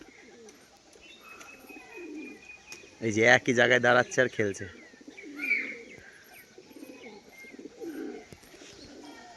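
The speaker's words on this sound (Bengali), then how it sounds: "এ হচ্ছে মাদি পায়রা" A female pigeon and others coo in soft repeated bursts with a few chirps, while someone talks over them nearby.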